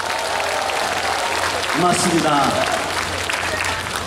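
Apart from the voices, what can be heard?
audience applause at a festival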